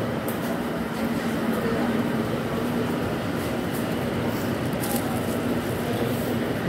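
A Moscow Metro 81-717.6 train rumbles along steadily from inside the car, a constant low roar with faint hum, continuous and fairly loud.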